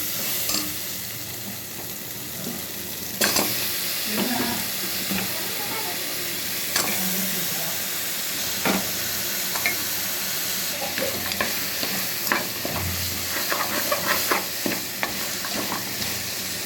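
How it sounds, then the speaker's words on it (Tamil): Ginger garlic paste fries in a pot before mutton bones go in for a bone curry, a loud steady sizzle and hiss broken by sharp spoon scrapes and clinks, close up. "இப்போ இஞ்சி பூண்டு பேஸ்ட் நல்லா வதங்கிருச்சு இந்த ஸ்டேஜில் எலும்பு போட்டுக்கலாம்"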